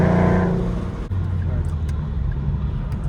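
A supercharged 2014 Mustang 3.7L V6 roars loudly, then drops off sharply with a brief whoosh from its diverter valve, leaving a lower rumbling idle with people talking over it.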